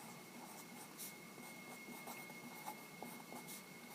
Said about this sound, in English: Oops, my pencil's running out here.